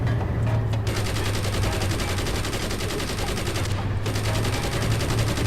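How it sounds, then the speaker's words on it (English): Turret gunfire in the Carrier Command: Gaea Mission video game, a loud sustained burst of rapid automatic shots over a steady low engine rumble, with two brief gaps. "Oh, someone's shooting at me."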